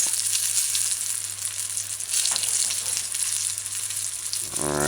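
A homemade fish patty fries in a pan on a stove at medium-low heat, giving a loud, continuous close-up sizzle and crackle with no talking.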